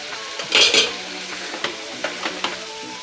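Boiled potatoes, about a quarter kilo, stirred in a pan for aloo masala, giving a few scraping, clinking stirs with a soft sizzle beneath, one louder burst early then lighter taps spread across the moment, no voices.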